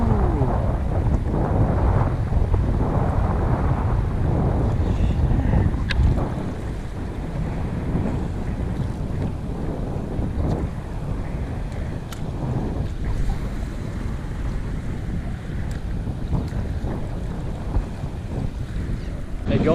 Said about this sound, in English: it's pretty windy now